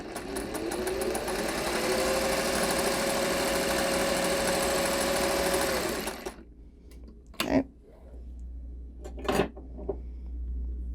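Sewing machine stitching a curved seam on a fabric sample, a fast steady mechanical whir for about six seconds, then stopping, followed by a couple of brief handling rustles nearby, no talk.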